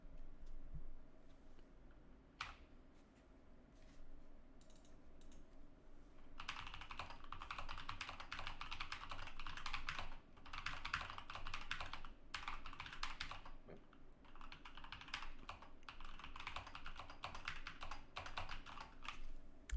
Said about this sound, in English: It's a new keyboard!